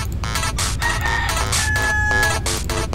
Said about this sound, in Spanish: Maldito gallo.